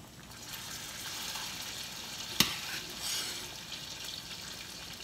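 Boiled potato gnocchi go into a pan of sage butter, setting off a steady, fairly loud sizzle and frying hiss with one sharp splash or clack midway, stirring sounds, and no talking.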